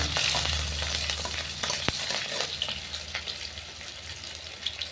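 Mustard seeds and green chilli stirred in hot oil for a red amaranth leaf dish: a brisk sizzle and crackle with stirring scrapes and one sharp clink, close by, fading a little toward the end.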